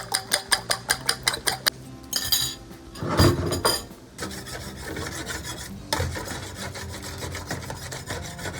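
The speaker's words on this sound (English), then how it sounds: "We're going to put a little bit of olive oil to scramble the eggs." Six eggs are scrambled in a little olive oil in a frying pan. A utensil first beats in quick, even strokes, then scrapes and rubs harshly against the pan in longer passes, all close and with no voices.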